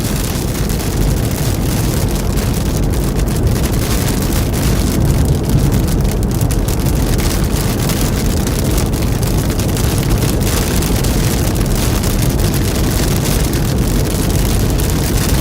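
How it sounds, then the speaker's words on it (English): Rain drumming on a car during a storm in eastern Oklahoma and western Arkansas, a dense, loud, unbroken patter and hiss heard from inside, steady throughout with no voices. "probably not going to have any breaks in this rain for a couple hours at least"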